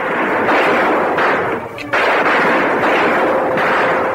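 Rapid bursts of gunfire in a 1931 film rattle continuously and loudly, with a brief lull partway through before the shooting resumes.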